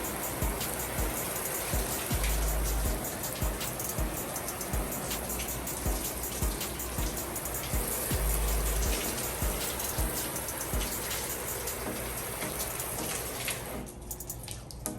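A steady water rinse sprays over a Tesla Model Y Performance, a continuous close hiss with a few heavier bursts as the stream hits the bodywork, cutting away near the end.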